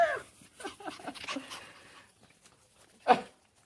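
Puppies whimper and pant in short, close bursts through the first half, then a single louder yelp or whine stands out near the end, with quieter gaps in between.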